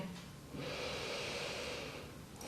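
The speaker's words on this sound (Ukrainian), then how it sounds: "Зробимо глибокий вдих, видих і вдих до мантри." A single deep, slow inhalation through the nose during a chakra kriya meditation, airy and close, swelling for about a second and a half before easing off, with no talk.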